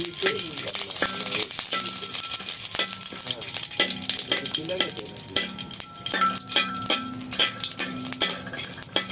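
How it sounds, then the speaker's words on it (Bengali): Cardamom, cloves and cinnamon sizzle in hot oil for a sweet carrot and semolina halwa, a steady loud frying crackle with repeated clinks of a spoon stirring against the pan throughout. "এলাচি আর লং দারচিনি দিয়ে দিলাম দুইটা"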